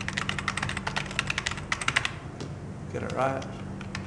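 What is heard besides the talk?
typing a new password on a computer keyboard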